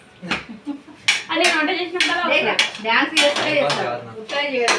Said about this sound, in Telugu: ఆ గిన్నె సౌండ్ ఎందుకు చేస్తున్నావు?